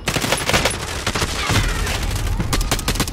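Rapid gunfire bursts from a Call of Duty: Modern Warfare multiplayer match, dense overlapping shots and booms filling the whole stretch, loud and close with a player's voice talking over the shooting.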